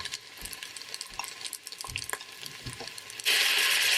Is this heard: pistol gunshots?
no